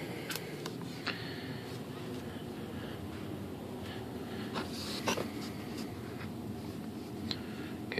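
A blade scrapes and cuts a model airplane part for an E-flite Apprentice S 15e flap modification, with faint close scratches and a few sharp ticks over quiet background hiss.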